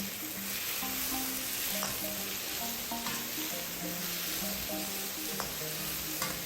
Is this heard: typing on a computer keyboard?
no